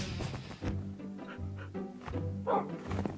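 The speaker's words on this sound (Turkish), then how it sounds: "Kafa attı lan köpek." A cartoon dog in a Minecraft animation gives a few short barks and yips amid thumps and background music, with no speech over it.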